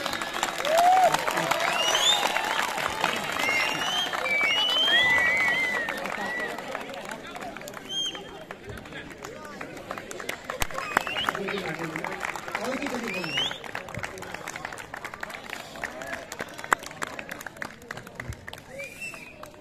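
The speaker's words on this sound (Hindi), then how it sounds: "तालियां बजती रहनी चाहिए" Audience applause at a Ramleela club closing ceremony stage event, a steady crowd clapping wash running throughout, with a host's voice and music-like tones over it.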